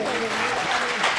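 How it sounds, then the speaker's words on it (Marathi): Audience applause following a powada folk ballad performance at a shahiri event in Latur, a steady dense clapping wash throughout, with voices mixed in underneath. "जोरदार टाळ्या होऊन जाऊ द्यात."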